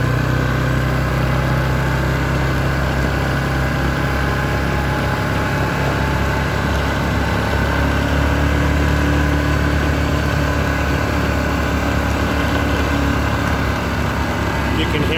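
An ATV engine runs steadily and loud on an old mountain logging road, a continuous low drone with no pauses, and talk comes in over it at times.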